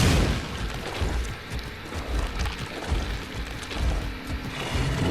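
A grenade detonates in the video game The Sinking City, giving a dense, noisy burst of rumbling debris and rattling clatter that continues loudly for several seconds, with no voices.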